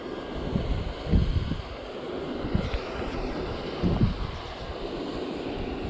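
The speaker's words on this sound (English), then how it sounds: "Wind's picking up." Wind gusting outdoors near water at dusk, buffeting the microphone with low rumbling bursts that swell and fade over a steady roar.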